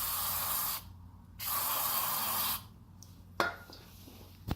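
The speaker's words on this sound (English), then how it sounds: "give that a spray." Two long, loud hissing bursts of aerosol spray are aimed into a two-stroke Victa council mower, followed by quieter handling noises and a sharp click near the end.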